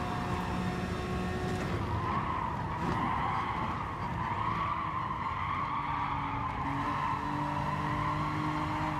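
A car drifts in the GT Sport racing game, its tires squealing and skidding in a continuous loud screech over a droning engine for the whole stretch.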